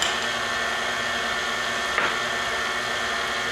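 Electric mixer whirring steadily as it beats chocolate fudge cake batter, a continuous motor drone with a brief knock near the middle and no talking.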